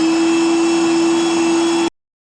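An electric kitchen chopper whirs steadily as it grinds meat for kofta, a loud, close motor drone with a high whine that holds for about two seconds and then cuts off abruptly.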